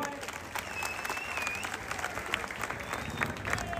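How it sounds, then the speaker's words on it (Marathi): A crowd at a wrestling match claps in sustained applause, a dense, even patter that fills the background, with some faint voices and a whistle in the mix. "कुस्ती सुरू झाली. टाळ्या करा सर्वांनी."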